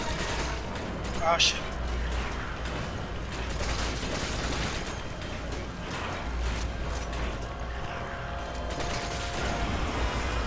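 Gunfire in Resident Evil 5 during a fight with a licker-type creature rattles in irregular bursts under a steady, dense game soundscape, with a man's brief exclamation partway through.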